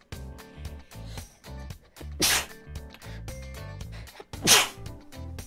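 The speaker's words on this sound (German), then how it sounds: "Und ich muss niesen." A person sneezes twice, each a sharp, close burst that stands out over steady rhythmic game music playing in the background.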